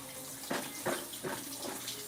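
Food is rinsed in water while cooking Liberian pumpkin soup, with a quiet running flow and several soft splashing swishes at a steady rhythm, fairly faint and close, without talk.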